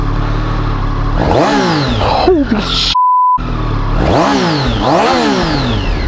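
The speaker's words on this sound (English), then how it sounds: "Let's see how this stock exhaust sounds." A 2017 Triumph Street Triple RS motorcycle with stock exhaust revs hard several times, pitch climbing and falling in sweeping bursts, loud and close, with a brief exclaimed voice and a short cut in the middle.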